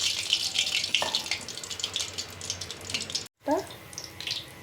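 Eggplant slices coated in gram flour batter hiss and sizzle in hot oil, a steady bright frying crackle that briefly drops out and returns as another slice goes in, with faint kitchen clatter.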